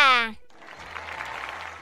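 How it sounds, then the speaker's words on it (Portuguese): Applause for a flying bathtub invention, starting after a brief harmonic voice and continuing as a steady, moderately loud wash of clapping. "Aplausos para Cebolinha e sua incrível banheira voadora!"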